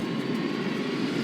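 A large airplane from a film drones overhead in a steady, loud engine roar that holds without pause, with no talking.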